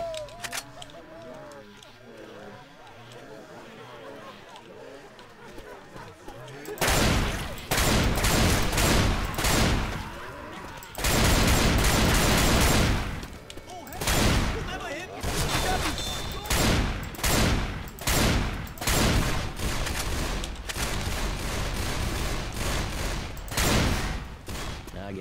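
Machine-gun fire in a Lego-themed Left 4 Dead 2 mod: after a quieter stretch, loud sustained bursts of automatic gunfire repeat in rapid volleys with brief gaps, close and dominant.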